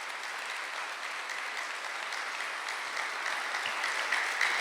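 A church congregation at a Sunday worship service applauding steadily together, a dense even wash of clapping from a roomful of people that holds at the same level throughout.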